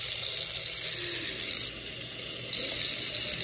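Tap water runs steadily into a sink and splashes back off the basin, a constant broadband rush with a brief drop in level midway before resuming at full flow.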